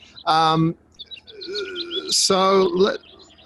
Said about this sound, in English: the birds have just been going bananas ever since